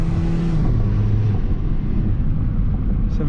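A 2002 Toyota Corolla 1.8L engine with a lean fault held at full throttle gives a steady, loud, droning roar close by, with a brief higher whine early on that soon fades.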